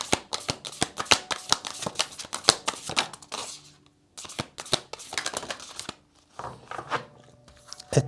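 Tarot cards being shuffled and drawn during a collective reading, a dense run of close, crisp riffling and snapping bursts with a short pause midway before the shuffling resumes, no voices.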